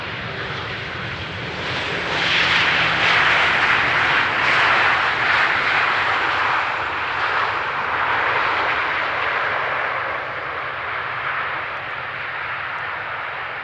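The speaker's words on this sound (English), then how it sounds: "Also a very gentle touchdown of the main landing gear" An airliner arriving on runway 18R at Amsterdam Schiphol makes a broad, steady jet roar that swells after the first couple of seconds and holds loud, then eases slightly toward the end, with no voices.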